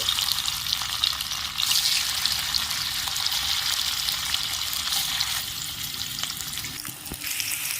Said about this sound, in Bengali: একইভাবে বাদবাকি পনিরগুলো আমি ভেজে নিচ্ছি